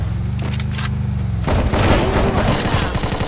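M1014 shotgun blasts in the Free Fire battle royale, a loud burst of close gunfire after a rumbling lead-in, with several sharp booming shots and their echoes tumbling together.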